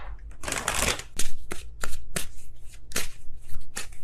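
Tarot cards being riffle-shuffled in several quick bursts, crisp fluttering rattles close to the microphone with short pauses between them.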